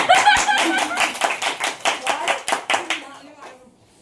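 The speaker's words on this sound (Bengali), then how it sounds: "হাততালি না দিলে বলবি না" A small group claps hands together in a beauty parlour academy, a brisk run of about a dozen fairly close, steady claps that fade out toward the end, with some voices underneath at the start.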